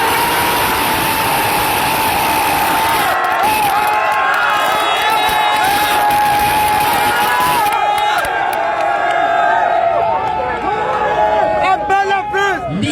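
A large outdoor rally crowd cheers and shouts loudly, with voices overlapping in a sustained roar and a low engine rumble beneath; people can be heard yelling close to the microphone.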